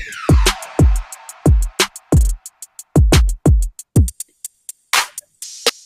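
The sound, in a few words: drum loops from a sample pack in FL Studio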